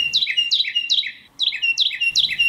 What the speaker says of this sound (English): Here was a Carolina wren singing in a swamp.